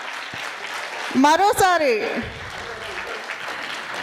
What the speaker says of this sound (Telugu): Wow wow wow, very big round of applause.